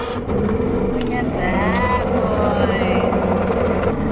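A Mercury two-stroke V6 outboard runs with a steady loud drone, revving slightly as throttle is added, while a person talks over the engine.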